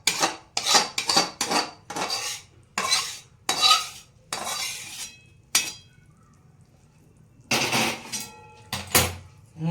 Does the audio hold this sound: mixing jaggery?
yes